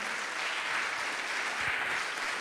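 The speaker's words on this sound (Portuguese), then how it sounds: "você pode aplaudir o Senhor nessa hora?" A church congregation claps during a sermon, filling the room with a continuous wash of applause at moderate level and no voice on top.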